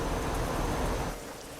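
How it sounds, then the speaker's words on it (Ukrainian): Rain in the driving game Euro Truck Simulator 2, a dense continuous hiss of falling rain that drops slightly in level near the end, with no talk. "Дощ пішов на мапі"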